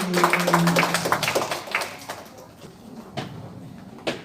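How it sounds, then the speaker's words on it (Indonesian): Scattered applause from an audience at an installation ceremony for FKKS officials in Matraman, with uneven claps under a faint voice that thin out and trail off into a few isolated claps. "Tepuk tangan sekali lagi"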